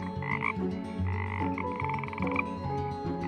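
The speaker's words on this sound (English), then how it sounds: "Our once dormant frogs had emerged from their hiding places and laid their eggs." Dense chorus of frogs croaking continuously, many overlapping calls pulsing in a steady, close rhythm with no voices.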